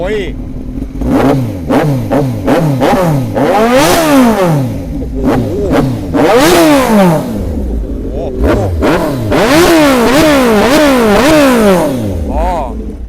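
Kawasaki Z-series motorcycles (Z800, Z900, Z1000) revving hard one after another, loud and close, with rising and falling engine sweeps throughout and people speaking over the roar.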